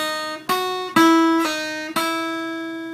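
Clean electric guitar notes from the solo of a song, four picked notes about half a second apart, each ringing and sustaining clearly with no talking.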